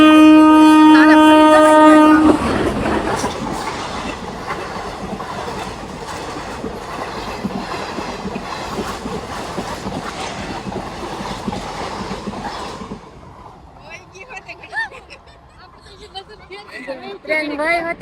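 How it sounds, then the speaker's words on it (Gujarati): A train passes a level crossing, opening with a loud horn blast, then a long clattering rush of wheels over rails that ends abruptly, followed by quieter roadside sounds with people talking nearby. "જો ટ્રેન આવી ગઈ"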